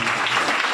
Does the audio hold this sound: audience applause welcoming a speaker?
yes